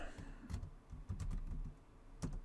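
Someone types a quick search on a computer keyboard, with soft, irregular key clicks in short clusters. It is close but faint.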